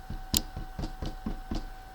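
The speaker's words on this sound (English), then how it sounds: "Mrs. Cream heard a quiet little knock" Several quiet knocks on a front door come in an uneven series of about six soft raps, faint and muffled over a low background hum.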